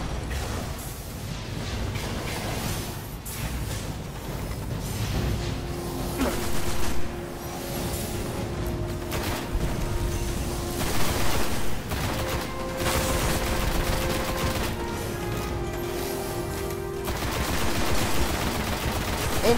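Destiny gameplay combat: steady gunfire with rapid automatic bursts and mechanical clatter runs throughout, mixed with in-game effects and brief talk.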